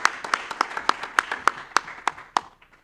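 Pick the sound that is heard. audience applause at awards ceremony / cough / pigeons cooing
audience applause at awards ceremony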